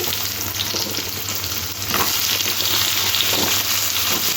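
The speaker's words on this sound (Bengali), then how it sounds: "কুমড়োর আলুটা একটু ভালো করে ভেজে নেব" Pumpkin and potato pieces fry in oil with a steady, loud sizzle for a curry with prawns. Occasional stirring scrapes sound through the constant crackle, and no one speaks.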